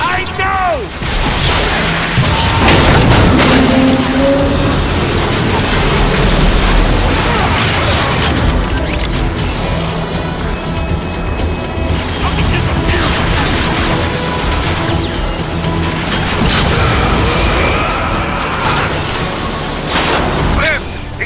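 Rocket explosions and heavy battle noise in the Transformers: Fall of Cybertron video game, with dense repeated booms, crashes and mechanical clatter over a loud bed, while characters talk throughout.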